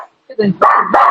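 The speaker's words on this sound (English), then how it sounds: "Sorry about the dog barking." A dog barks in the background of a podcast recording: a quick run of close, sharp barks and yips lasting about a second.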